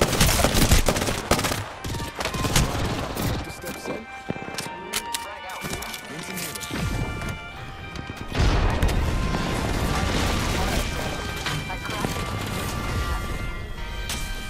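Rapid gunfire bursts and a grenade blast in the Apex Legends battle royale shooter, loud and dense throughout with sharp cracks and crashes, a heavier explosive hit near the middle, and a voice talking over the fighting.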